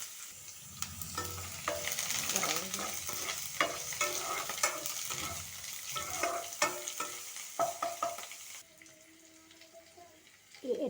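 Onions, bay leaves, dried chillies, panch phoron and garlic frying in hot oil in a pan, a busy sizzle with scraping stirs throughout before it quiets near the end.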